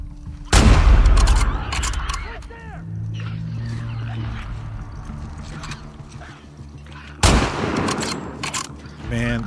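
Gunshots from The Last of Us Part II, with two loud sharp blasts roughly seven seconds apart standing out over a busy game soundscape of music and ambient effects.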